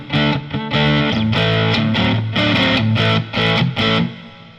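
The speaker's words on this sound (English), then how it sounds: "More reverb than I need." An electric guitar played through a JOYO DC-15S amp set to a lead sound with deep reverb, picking a melodic line of sustained, slightly driven notes that ring and wash into each other, loud and close with no voices.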